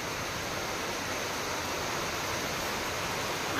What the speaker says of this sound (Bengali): আর এখানে খুব বৃষ্টি হচ্ছে,